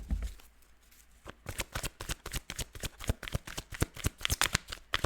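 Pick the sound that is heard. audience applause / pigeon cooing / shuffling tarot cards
shuffling tarot cards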